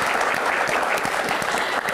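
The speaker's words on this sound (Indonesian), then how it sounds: "kasih tepuk tangan." A seated audience at a Q&A session about Indonesia's new capital gives close, steady applause, a brief uninterrupted burst of clapping with no talk over it.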